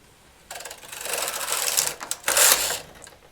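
A knitting machine carriage sweeps across the needle bed while popcorn stitches are worked, giving a steady mechanical whirring rattle that grows louder midway, pauses briefly, then surges again before fading.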